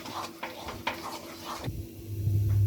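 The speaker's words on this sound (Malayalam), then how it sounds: "നല്ലതുപോലെ നമുക്കൊന്ന് വഴറ്റിയെടുക്കാം." A spoon scrapes through masala with garam masala in a hot pan for a paneer Patiala curry, making rhythmic stirring strokes that give way to a steady, close sizzle.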